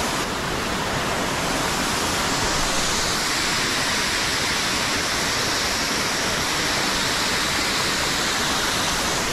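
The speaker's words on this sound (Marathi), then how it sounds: "हे तुम्ही बघू शकता किती वरतून येतं पाणी" Water plunging from a height at a dam, a loud, unbroken roar of falling water that stays steady and close the whole time with no other sounds standing out.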